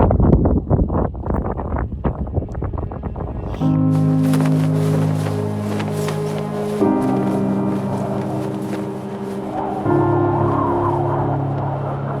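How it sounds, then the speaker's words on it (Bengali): Strong mountain wind on a high Himalayan ridge trail buffets the microphone with loud, steady roaring gusts, preceded by a few seconds of rougher rustling and handling noise. "আবার সেই মারাত্মক রকমের হাওয়া।"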